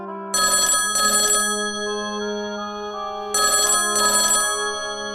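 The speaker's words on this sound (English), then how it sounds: "was about to leave when the phone rang" A telephone rings in two double bursts with a pause between them, loud and close in a quiet late-night office, with a steady electronic tone running underneath.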